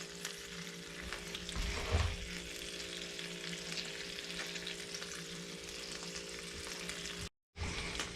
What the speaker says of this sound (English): we're gonna go in with a little bit of our bacon